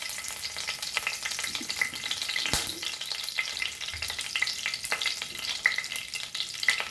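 Curry leaves sizzle and crackle in hot mustard oil for Goan shark fish egg bhurji, a steady close hiss with scattered pops and the occasional stir, no voices.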